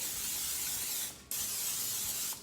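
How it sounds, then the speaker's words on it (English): Olive oil cooking spray hisses onto a waffle iron in two steady bursts, a short pause between them, close and fairly loud with no talking. "Oil, I use an olive oil cooking spray. So you want to coat it generously."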